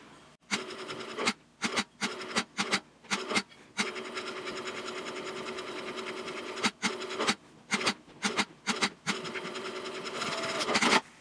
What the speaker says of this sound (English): Now I'll do the top stitching around the flap